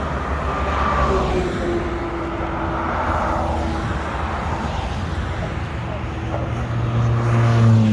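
Steady road traffic rolls past on the Samuel-De-Champlain Bridge in cold weather, a continuous broadband roar of passing cars with a low engine drone that swells near the end, close and loud, with a voice talking over it.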